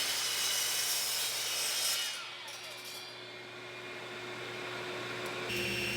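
A miter saw cuts wooden boards for a cheese cutting board, a steady moderate whirring drone that dips as the blade bites the wood, then swells back to full spin; no voice over it.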